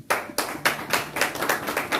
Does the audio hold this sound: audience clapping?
yes